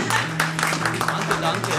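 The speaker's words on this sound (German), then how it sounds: "Und dazu eigentlich auch nochmal einen Applaus" Crowd clapping at a culture-day gathering in a guesthouse, a broad rustling patter that runs under someone speaking over it.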